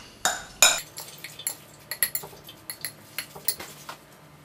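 A spoon clinks and scrapes against a bowl while a lentil burger mixture is stirred, a run of quick irregular knocks and clatters, close and fairly loud, with no talking.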